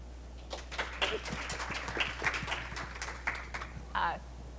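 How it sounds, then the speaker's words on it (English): An audience at a startup partnership panel gives scattered applause, with individual claps popping irregularly over steady background room noise while people talk. "please give them a big round of applause"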